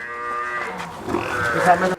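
A Murrah buffalo at a cattle market in Shamshabad gives one drawn-out, deep lowing call lasting about two seconds, near and clear, rising slightly in force toward its end.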